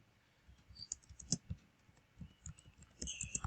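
Someone types a search on a computer keyboard, a quiet run of quick, uneven key clicks with a few louder taps, heard close and alone.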